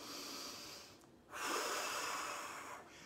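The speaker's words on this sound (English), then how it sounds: "deep breaths." Two deep breaths are taken close up, a long hissing inhale and exhale, a brief pause, then another strong, drawn-out breath, with no talking.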